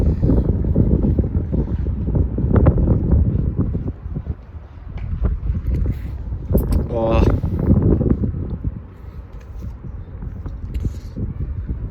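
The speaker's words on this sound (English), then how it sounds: "It's so windy." Strong wind buffets the microphone in heavy, rumbling gusts throughout, with a brief voice rising through the roar midway.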